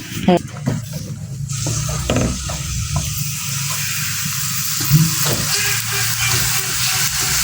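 Chopped onion and garlic fry on a stove, giving a continuous close sizzle with a few utensil clinks and stirring sounds, and a faint voice in the background.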